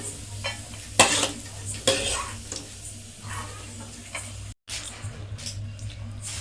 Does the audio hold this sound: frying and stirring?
yes